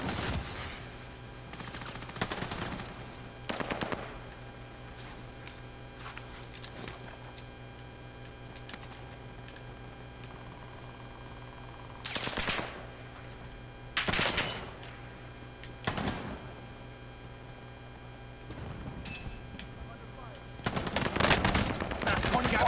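Scattered bursts of video game gunfire crack out in separate volleys against a steady droning hum, some loud and close, others fainter, with long quiet gaps between.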